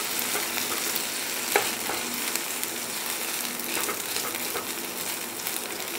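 Khoa (milk solids) roasting in a pan over a low flame with ginger, a constant soft frying sizzle and occasional stirring scrapes, close and unbroken.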